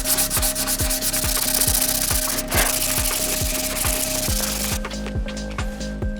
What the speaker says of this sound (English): I've been sanding for about an hour now